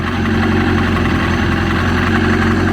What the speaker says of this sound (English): Here you just hear an engine running.